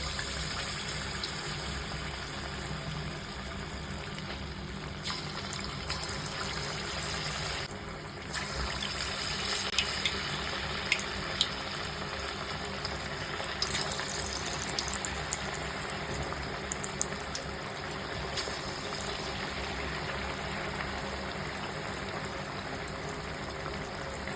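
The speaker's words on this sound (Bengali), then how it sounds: "তেল গরম হয়ে গেছে, এবার আমি চিকেন পকোড়াগুলো দিয়ে দেবো।" Chicken pakoras fry in hot oil with a continuous crackling sizzle, steady and close, dotted with occasional sharper pops and spits over the whole span. No talking.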